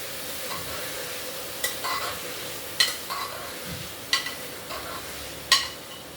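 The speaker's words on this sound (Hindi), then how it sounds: "अभी थोड़ा अच्छे से भूनूंगी घी और प्याज और घिया को" Onion and bottle gourd frying in ghee give a low steady sizzle while a spoon stirs them, scraping against the pan in several distinct strokes at an uneven pace, close by and moderately loud, with nobody talking.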